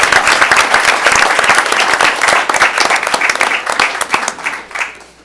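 Loud, close applause at a city council meeting, a room full of people clapping densely and energetically for about five seconds before it tapers off and fades out.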